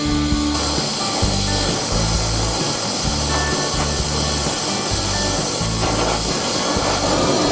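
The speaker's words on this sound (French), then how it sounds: "Je vais allumer mon chalumeau. Je vais souder la tête." A gas welding torch on a steel piece gives a loud, steady roaring hiss that fills the whole stretch, close and constant, with a rhythmic low pulsing underneath.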